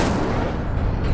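An Incendio fire spell is cast in Hogwarts Legacy, a loud, sustained booming blast of roaring noise that fills the moment with no talking.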